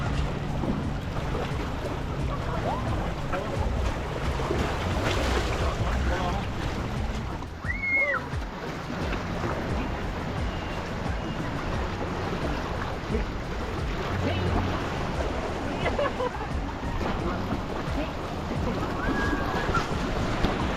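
Waves wash along the Lake Ontario shore at the Scarborough Bluffs under steady gusting wind, a continuous broad roar with heavy wind buffeting on the microphone.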